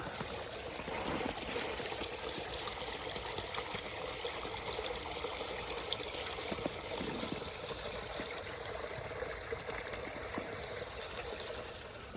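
Running water trickles and babbles steadily through a partly frozen stream at a snowy winter camp around minus ten degrees, a continuous, fairly close wash of sound with no voices.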